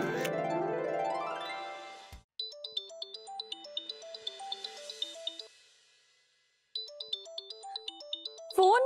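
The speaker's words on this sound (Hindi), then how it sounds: "फोन बज रहा है।" A bright melodic phone ringtone plays a repeating electronic pattern, loud and close, in an indoor family scene during a mehendi ceremony. It pauses briefly and then starts again, following a short musical lead-in.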